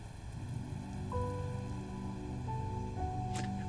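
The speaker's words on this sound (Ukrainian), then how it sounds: "піде дощ, і всюди знову буде океан" Steady rain patters on a surface in the video game Sword of the Sea, with tonal chimes and a brief bright sweep near the end; no voices.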